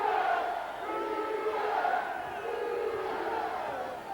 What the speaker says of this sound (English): And this Cougar crowd getting behind the local heroes.